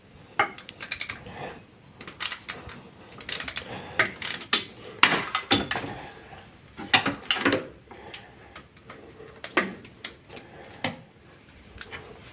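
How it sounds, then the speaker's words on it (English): A ratchet works on a 13mm tensioner bolt on a 2.3 JTD Fiat Ducato IVECO engine, giving close bursts of quick metallic clicking with gaps and scattered clinks of tools in a quiet workshop. "Removing here the tensioner, or trying to, 13mm head bolt."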